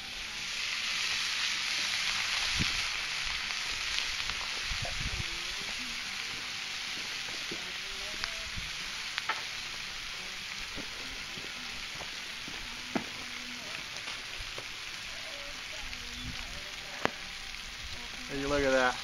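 Fajita ingredients sizzle in olive oil and half a stick of butter in a pan over a hot campfire outdoors, a steady bright hiss with occasional faint stirring clicks and crackles, moderately quiet, with no talking.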